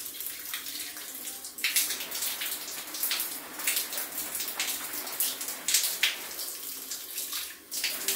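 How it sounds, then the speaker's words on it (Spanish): A man bathes while water splashes and pours over him, making irregular, bright splashes and streaming gushes that rise and fall close by, with no voices. "aquí don Fabio se está bañando"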